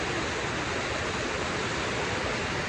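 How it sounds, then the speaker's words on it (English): A steady, full roar of rainwater rushing down a stream on a rainy, dark day, loud and close with no breaks and no voices over it. "Water's coming down."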